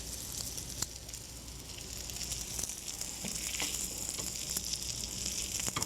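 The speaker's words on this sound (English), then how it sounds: "Oh, look at the sizzle on that." Crab cakes fry in a hot pan with a steady, close crackling sizzle and irregular pops throughout, with no voices.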